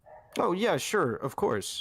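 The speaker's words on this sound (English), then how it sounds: "I'm sorry for the dog in the background" A dog barks and yips in the background of an indoor setting, its short calls mixed in among a man's continuous conversational speech.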